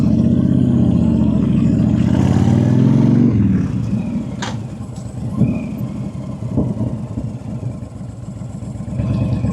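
Honda Sabre 1300 factory chopper motorcycle engine revs loudly at first, then settles into a steady mid-pitched drone as the bike pulls away, heard close and continuous throughout with no talk.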